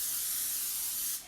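A can of non-stick cooking spray releases one continuous, close hiss for about a second before cutting off abruptly.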